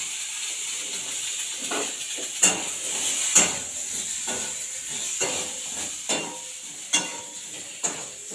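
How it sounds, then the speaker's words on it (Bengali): Food cooks in a pan with very little oil after turmeric and salt go in, a steady soft sizzle broken by several sharp scraping clicks of a spatula stirring against the pan. "একদম কম তেলেই আমি রান্না করছি বন্ধুরা"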